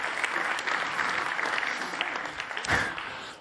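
An audience at an event applauds in a steady wash of clapping that stays moderately loud. It fades slightly toward the end of the short stretch.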